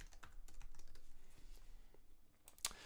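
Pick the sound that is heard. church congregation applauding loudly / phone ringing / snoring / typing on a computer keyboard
typing on a computer keyboard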